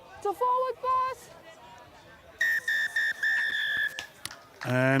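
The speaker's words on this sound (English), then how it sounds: "And that will sound the final whistle" Referee's whistle at a women's Premier Division rugby match between the Golden Lions and the Bulls Daisies: short shrill blasts early, then a long sustained blast, with crowd babble and chatter beneath and a final burst at the end.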